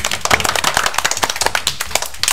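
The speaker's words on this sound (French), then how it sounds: "On peut les applaudir." Studio audience on a French television show clapping to welcome two guests, a dense run of sharp, close hand claps that keeps steady for a couple of seconds.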